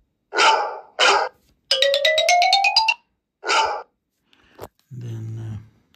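Bark, a classic iPhone 16 Pro ringtone, sounds as a few distinct dog-like barks separated by pauses, with a quick rising chime run in the middle; a brief voice follows near the end.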